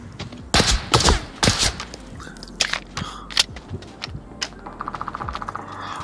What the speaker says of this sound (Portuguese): eu vou dar tiro em você